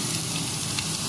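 Ground lentil paste hits hot oil with whole cumin seeds for a Bengali dhokar dalna, producing a brief, dense, close sizzle with fine crackling throughout.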